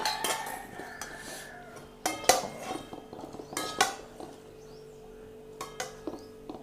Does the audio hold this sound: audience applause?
no